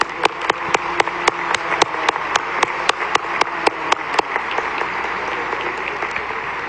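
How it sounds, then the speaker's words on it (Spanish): Congregation applauding inside a basilica during Sunday Mass, a warm reverberant spread of many hands clapping with regular distinct accents, fading slightly toward the end. "le tributamos un caluroso aplauso"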